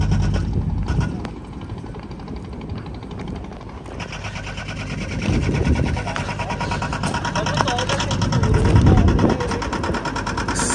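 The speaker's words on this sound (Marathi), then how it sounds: "ते बघताय बोट चालली आहे." A boat motoring on the water near Ratnagiri, a steady droning engine hum heard from a distance under continuous talking.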